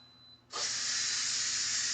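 A sudden burst of steady, loud hissing starts after a brief quiet moment and continues evenly, steam rushing out close by as it is released from cooked potatoes.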